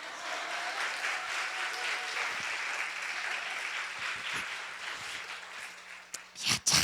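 A church congregation applauds during a Shavuot celebration service, a moderate, fairly distant wash of many hands clapping that fades toward the end, with a few sharper noises close by at the finish.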